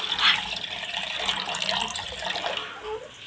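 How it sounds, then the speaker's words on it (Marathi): Water poured into a pot of sweet pani puri mix, a close, splashing pour that rises at first and then runs on as a steady trickle before stopping. "ह्याच्यामध्ये आता पाणी टाकायचं"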